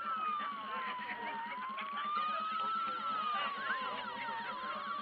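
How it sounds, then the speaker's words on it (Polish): A model fireboat's siren wails continuously, its pitch slowly rising and falling in smooth sweeps over a steady electronic buzz. "Na jednostce strażackiej następuje uruchomienie syreny."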